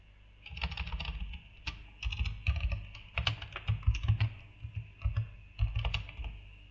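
Keys clatter on a computer keyboard in bursts of quick taps with short pauses, close and fairly quiet, while code is being written; no one talks over it.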